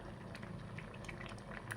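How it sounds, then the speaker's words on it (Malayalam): Rice payasam boiling in a pot, a soft steady bubbling with small pops, quiet and close, with no one talking. "പായസം നന്നായി തിളച്ച് വരുന്നുണ്ട്."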